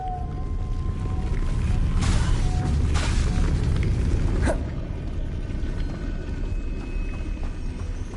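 A Depulso force spell cast in the video game Hogwarts Legacy, heard as a few sharp booming bursts over a steady rumbling game background.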